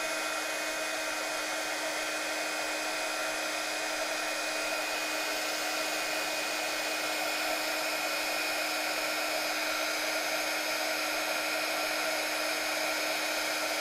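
A heat gun blows a constant, loud whirring roar for the whole stretch, melting embossing powder on a palm-tree card, with a steady pitched motor whine and no break or voices.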